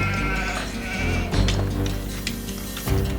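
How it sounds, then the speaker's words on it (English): Sheep in the Age of Empires II HD Edition strategy game bleat several times in quick succession, clear and close, with a couple of sharper calls near the end and no talk. "Sheep, get out of the way."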